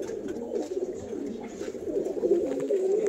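Pigeons at a home loft coo steadily in low, rolling, overlapping calls, close and fairly loud, with scattered faint background noise and no voices.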